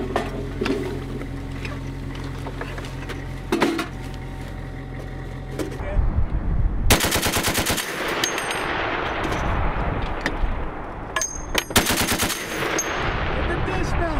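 Humvee-mounted M2 Browning .50 caliber machine guns fire loud, rapid bursts during a large military training exercise outdoors, repeated bursts over engine rumble with shouted voices in between.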